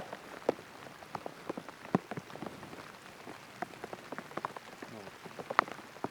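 Steady rain patters on a surface in the Mark Twain National Forest, with scattered sharper drops tapping irregularly throughout; no voices.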